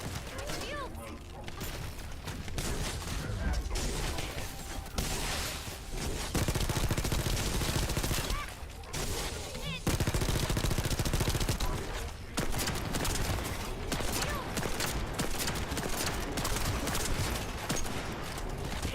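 Rapid gunfire from hand cannons and other weapons in the free RPG video game The First Descendant, with dense continuous bursts and booms, loud, interrupted by a few short pauses and mixed with game effects.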